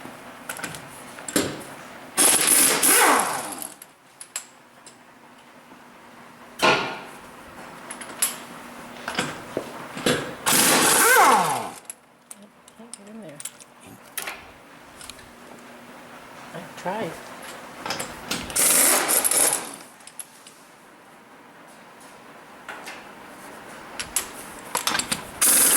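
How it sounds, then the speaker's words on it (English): Ratcheting tool clicks and metallic clatter in several bursts as wheel lug nuts are removed from a 2001 Hyundai Accent on a lift, with quiet gaps between. "Next, I'm going to take the nuts off."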